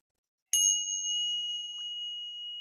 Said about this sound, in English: Let's ring the ting sha